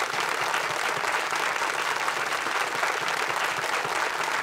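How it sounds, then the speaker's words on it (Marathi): Steady, sustained applause from a studio audience on the Kon Honaar Crorepati quiz show, an even wash of many hands clapping with no pauses. "पुन्हा एकदा टाळ्या वाजत राहायला पाहिजेत"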